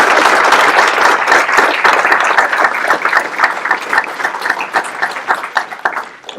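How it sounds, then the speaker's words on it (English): An audience at a swearing-in ceremony for school resource deputies bursts into loud, close applause that fades into looser, scattered clapping over about six seconds. "One more round of applause for our school resource deputies and our new promotions."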